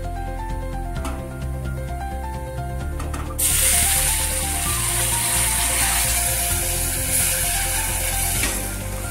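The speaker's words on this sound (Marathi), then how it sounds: "आता त्याच्यामध्ये मी हे गरम पाणी टाकते." Hot water poured into roasted broken wheat (dalia) in a pan, bursting into a loud, sustained sizzling hiss partway through after quieter kitchen sounds, with no talking.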